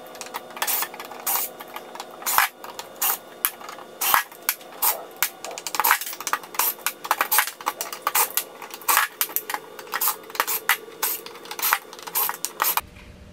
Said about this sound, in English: so I just took off the lugs